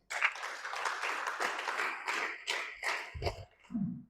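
Brief, light clapping from a church congregation praising God during a sermon, a few seconds of scattered hands that taper off with a couple of soft thumps at the close.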